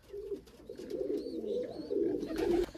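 Close, continuous cooing of young pigeons, a soft rolling warble that swells and fades, with faint higher chirps above it.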